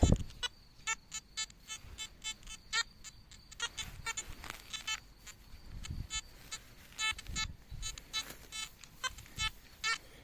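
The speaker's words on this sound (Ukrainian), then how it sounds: "Звісно, мега удобно держати телефон і пілікати." A phone app used as a metal detector in a garden plot gives a rapid run of short electronic beeps in uneven bursts, close and fairly loud, over faint outdoor background noise.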